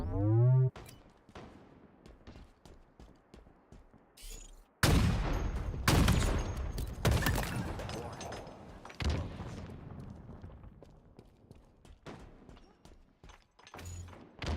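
Gunfire and grenade blasts in the video game Halo Infinite, loud bursts of shots and heavy booming impacts clustered in the middle, trailing off into scattered quieter shots.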